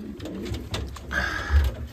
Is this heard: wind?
no